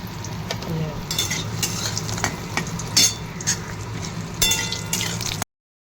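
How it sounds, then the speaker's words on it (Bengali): Bori lentil dumplings fry in hot oil in a wok, with a steady close sizzle and crackle throughout and several sharp scraping stirs against the pan. "কড়াই তেল দিয়ে দিয়েছি, তেলও গরম হয়ে গেছে। বড়ি ভেজে"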